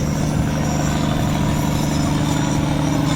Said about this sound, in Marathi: एक इंजिन गाडी या ठिकाणी रेल्वे रुळावरून आलेली आहे